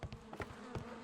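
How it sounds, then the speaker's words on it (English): Bees buzzing in the Sherlock Holmes: Crimes & Punishments video game, a close droning hum with several brief swells, heard alone. "I do like the sound of bees."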